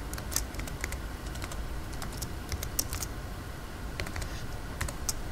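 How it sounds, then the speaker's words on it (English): Keys clatter on a computer keyboard while a username is typed into Minecraft Java Edition, a steady run of quick light clicks with brief pauses, close and fairly quiet, with no talking. "then you're going to want to type in your username"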